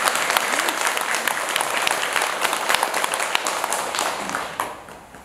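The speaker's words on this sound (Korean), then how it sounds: "오늘 강로 법문을 해주신 큰 스님께 감사의 큰 박수 부탁드립니다." An audience at a Buddhist dharma talk at a Seon center applauds, a dense and sustained burst of many hands clapping that fades near the end.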